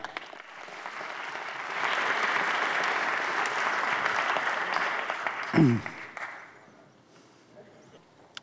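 A lecture audience applauds to welcome physicist Professor Rana Adhikari, the clapping swelling to a steady, moderately loud wash, then a sharp thump near the microphone, then fading out into near silence.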